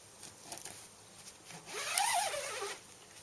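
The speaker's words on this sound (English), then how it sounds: "two zips on either side of the door." A zip on a canvas camping tent door is drawn open in one quiet, smooth pull lasting about a second, with no other sound around it.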